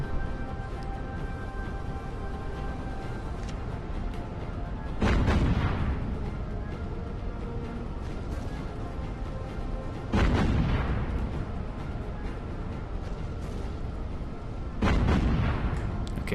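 Anti-aircraft gunfire from a warship in the naval combat game Battlestations: Pacific, three loud booming bursts spaced about five seconds apart over a steady rumbling engine and battle din.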